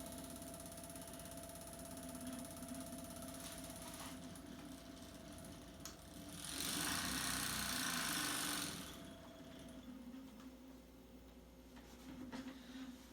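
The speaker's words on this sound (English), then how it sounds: "my vibration motor changes with start up and shut down, speeds up and slows down" A small vibration motor hums faintly at close range, its pitch and intensity rising to a brief louder, buzzier peak in the middle before easing back down to a low steady whir.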